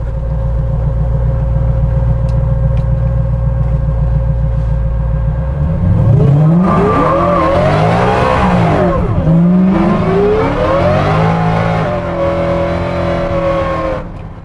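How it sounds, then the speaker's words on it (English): A supercharged Coyote V8 in a 1971 Ford F100 pickup roars through a long burnout, loud and close, idling low before revving hard with rising and falling engine pitch and tire noise. "That was about a 100-yard burnout back there."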